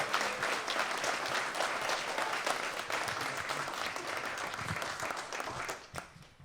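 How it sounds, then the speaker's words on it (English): Audience at a documentary screening applauding: dense, sustained clapping from a full room that holds steady for several seconds, then tapers off and fades near the end. "give them a round of applause for all of their hard work"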